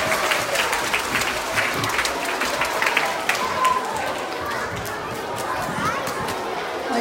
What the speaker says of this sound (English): Oh, now big clap.